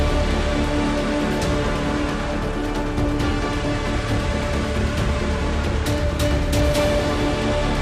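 Heavy monsoon downpour during flooding in northeast India, a dense continuous roar of rain hitting surfaces with scattered sharper drops and a faint steady hum underneath.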